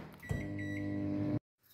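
Microwave oven heating rice, a steady loud electric hum with a low drone that runs for about a second, then cuts off abruptly into silence, close by and heard alone.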